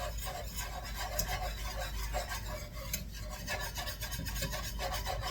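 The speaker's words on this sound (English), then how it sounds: "And as you make this roux, you can scrape up the drippings that stick to the pan" A utensil scrapes pan drippings while stirring a roux for meatball gravy, making a steady, close, raspy scraping in quick repeated strokes throughout.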